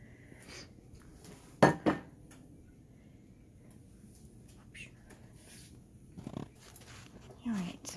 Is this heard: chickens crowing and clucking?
no